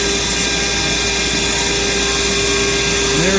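A power tool cuts through a metal rod for a brass Antikythera mechanism replica part, a loud, steady whine with a constant pitched hum that holds without break.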